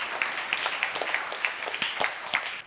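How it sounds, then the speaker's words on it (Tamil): An audience at a televised Tamil youth speech forum applauds as a young speaker is welcomed, a brief, moderately loud patter of clapping with a few sharper individual claps standing out. "உங்கள் கைத்தட்டலோடு."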